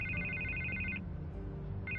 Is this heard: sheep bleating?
no